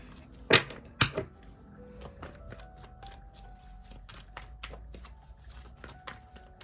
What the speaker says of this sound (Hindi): तो जैसे मैं कार्ड शफल कर रही हूँ